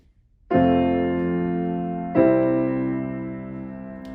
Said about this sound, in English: It's known in the theory world as the plagal cadence.